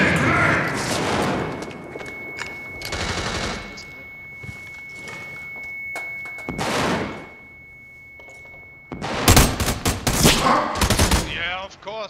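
Video game combat with a grenade blast and gunfire: sharp loud bursts of shots and booms in clusters, the heaviest volley near the end, with a quieter stretch between and voices talking over parts of it.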